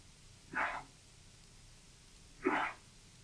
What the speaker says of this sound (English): Because that was a sneeze, it was appropriate to give the individual a God bless.